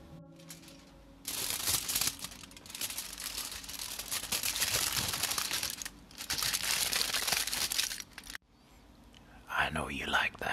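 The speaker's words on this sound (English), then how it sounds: "the gentle crinkling of a tinfoil hat" Tinfoil hat crinkled close to the microphone for ASMR: long, loud stretches of dense crackling and rustling, broken by a brief pause and ending with softer handling sounds.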